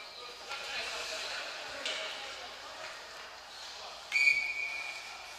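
A referee's whistle at a high school hockey game gives one sharp, piercing blast near the end, rising above the steady murmur of the arena crowd.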